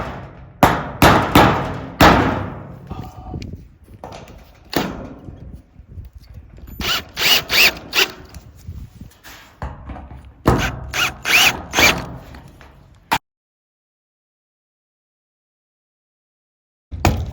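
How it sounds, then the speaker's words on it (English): A power drill drives screws into 2x4 lumber on a wall panel, heard as several short whirring bursts with bumps and clatter, loud and close, before a few seconds of silence near the end. "I'm just going to put one screw down here and screw these 2 in"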